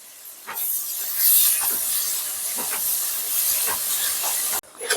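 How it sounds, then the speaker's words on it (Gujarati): Onion, capsicum and carrot hissing loudly in a hot pan while being mixed for white sauce pasta, a dense bright sizzle with soft scraping pulses, close, cutting off abruptly near the end. "તો કાંદા નાખી દઈશું કેપ્સિકમ નાખી દઈશું ગાજર નાખી દઈશું અને બરાબર મિક્સ કરી લઈશું"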